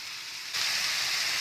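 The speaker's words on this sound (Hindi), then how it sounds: "चिकन को हमने कलर चेंज होने तक कुक करना है।" Chicken pieces cooking in a pan for chicken spaghetti give a steady frying sizzle that suddenly grows louder and brighter partway through, close by, with no talk.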